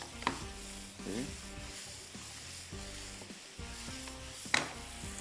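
Green coriander and pea keema being stirred and mixed in a dish, soft scraping and light sizzling with a few sharper clinks of utensil against the pan, quiet and steady throughout.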